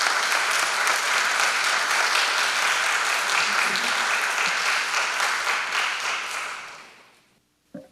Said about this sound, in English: Please welcome him with your big round of applause.